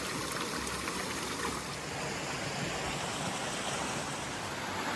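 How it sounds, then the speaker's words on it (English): Mountain waterfalls swollen after rain pour in a steady, broad rushing roar, heard from a distance in Germany or Austria with no talk over it. "the waterfalls are nice now"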